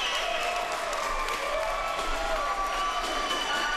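A gymnasium crowd roars and cheers continuously after a high school wrestling pin decides the final match, a dense, steady wash of voices and whistles with applause mixed in, loud and sustained throughout.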